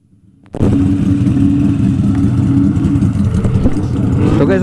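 Motorcycle engines rev loudly at a crowded motor show in Lagonoy, a sudden steady close roar of idling and revving that continues without a break.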